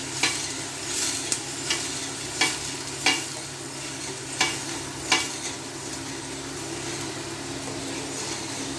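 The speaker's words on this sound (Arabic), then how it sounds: "انا بدي اقلب تاني شوية، اقلب 5 دقايق كده" Food is stirred in a sizzling frying pan, with six or seven sharp scraping strokes at irregular intervals over a steady frying hiss and low background hum.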